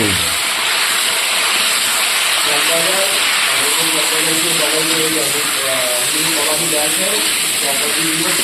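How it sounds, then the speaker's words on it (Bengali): Cauliflower florets fry in hot oil in a home kitchen for a spiced cauliflower and potato roast, giving a steady, loud hiss and sizzle throughout while a person talks over it. "ফুলকপিগুলো ভেজে নেবো"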